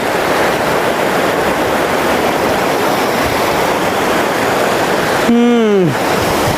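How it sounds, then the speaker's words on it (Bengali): Water rushes down nonstop in a loud, dense roar outdoors in Saudi Arabia, with a brief voice rising over it near the end. "দেখেন শুধু পানিগুলো কিভাবে নামতেছে"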